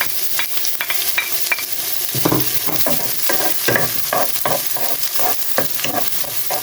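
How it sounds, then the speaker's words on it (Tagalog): Onion, garlic and ginger sizzling together in hot oil for a chicken feet and gizzard adobo, a loud, close frying crackle with rapid rhythmic spatula scrapes and clatters throughout. "pagka mainit na, sabay-sabay mo lang ilagay. Sibuyas, bawang, at luya."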